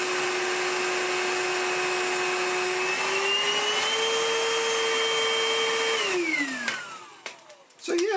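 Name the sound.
Vytronix NC22 cordless vacuum cleaner running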